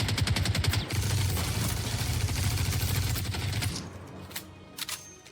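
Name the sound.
video game gunfire, bullets hitting metal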